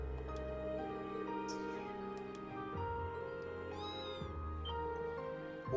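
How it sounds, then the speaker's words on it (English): A cat meowing in the video game Trails of Cold Steel III: a few short meows over a sustained musical game soundtrack, with no one talking. "I heard meows."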